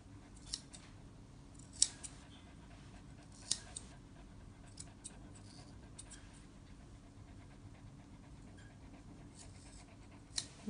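Grooming scissors trim a Yorkshire terrier's fur with soft, scattered snips. Crisper clicks stand out now and then over a quiet, close background.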